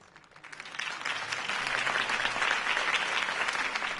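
Crowd applause after a mayoral campaign speech for Harvey Dent, starting quietly and swelling into a steady, full roar of clapping.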